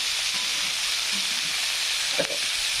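Cluster beans roast in a hot pan with a loud, steady, dense sizzle that carries through the whole stretch without a break, close up and with no voices.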